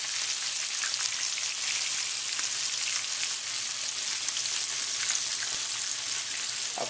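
Sardines pan frying in hot oil, a steady dense sizzle and crackle that holds close and loud throughout with no talking.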